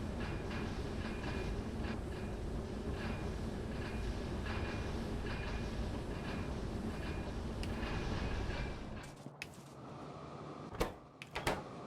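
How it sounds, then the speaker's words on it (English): Two trains hauling sand in Factorio with Pyanodon's mod: a steady, dense rumbling clatter of rail cars rolling along, loud and continuous, then cutting out near the end, leaving a few sharp clicks. "We do have two trains trying to bring sand over here."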